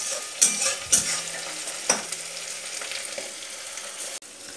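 Tomato, garlic and green chili fry with chopped onion in a pan. A soft continuous sizzle runs throughout, broken by several sharp scraping stirs.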